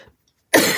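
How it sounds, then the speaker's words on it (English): A single sharp, close cough bursts out after a brief near-silence, loud and abrupt, from a person inking a drawing. "of course I'm going to cough."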